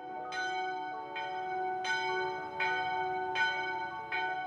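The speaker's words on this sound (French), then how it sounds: "fait sonner la cloche" A convent church bell rings steadily, with about six evenly spaced strikes whose tones overlap and hang in the air, moderately loud with no voices.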